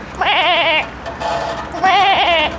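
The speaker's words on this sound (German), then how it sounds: "Ein behindertes Schaf." A sheep bleats twice, loud and close, each call a wavering, quavering cry with a short gap of low background noise between them.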